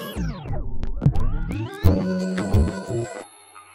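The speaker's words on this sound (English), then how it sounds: "I've got them running through a pitch bend" Electronic samples in Ableton Live pass through a pitch bend, sliding downward, then rising in warbling sweeps amid choppy bursts, ending on a held, fading tone.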